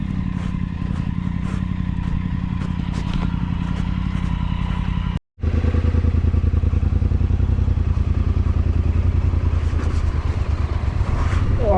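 A Triumph Tiger 900 on road tyres rides a trail, its engine a steady close drone with clattering over rough ground, a brief cutout partway, then the motor continues evenly.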